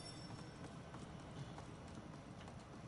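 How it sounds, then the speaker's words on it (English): Footsteps in the Realm Royale video game sound as a steady, rhythmic run of soft thuds, fairly close and continuous, with no talking over them. "Thought I heard somebody else's footsteps."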